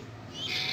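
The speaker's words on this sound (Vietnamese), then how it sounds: "Chim diều hâu của cha." Pet white kite, a bird of prey, gives a rising shrill call, a high thin screech that swells and holds near the end, heard close and alone over faint background hum.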